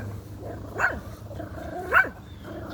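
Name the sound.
dog barking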